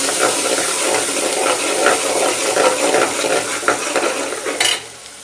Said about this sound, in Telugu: ఆనియన్స్ అండ్ కరివేపాకు వేసాను. ఓకే, బాగా కలిపి